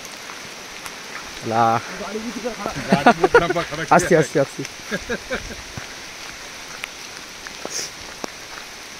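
Rain patters steadily on a surface, close by, while a person talks over it in short phrases.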